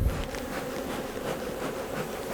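Honey bees drone in a steady, dense buzz from the brood chambers of an opened hive at a city park lake, close and continuous throughout with no voices.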